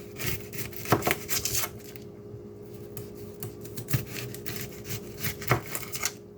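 A dull kitchen knife chops a very large onion on a board, making faint scattered cuts and scraping strokes with a few sharper knocks spaced about a second or more apart, quiet and with no one talking.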